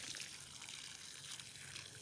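Water poured from a little height onto a potted tomato plant at home, a steady close splashing trickle running unbroken for about two seconds.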